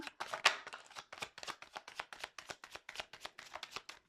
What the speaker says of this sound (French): le temps que je bats les cartes